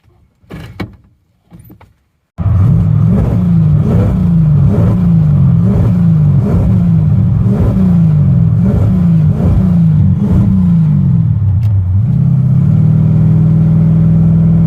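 A 1974 Chevy with a TBI conversion, running slightly poppy, drives along. A few brief knocks give way to a loud, sustained engine drone that rises and falls in rhythmic surges, then settles into a steadier hum.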